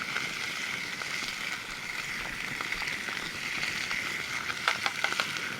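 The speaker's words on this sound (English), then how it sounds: "So what I'm doing now is I'm just stirring everything." Creole tilapia and mushrooms frying in pans over a campfire, with a steady broad sizzle throughout and occasional soft scraping clicks from stirring near the end.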